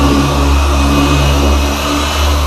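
Car polishing machine running steadily at speed setting 4 during paint correction in a detailing shop, a continuous loud motor whine with a low droning hum and no breaks.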